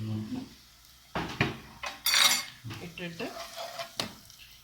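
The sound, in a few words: stirring and sautéing palak spinach in a pan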